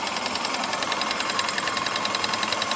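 Airless paint sprayer pumping masonry paint in a workshop inspection pit, a steady loud mechanical hum with rapid, even pulsing throughout, no voices over it.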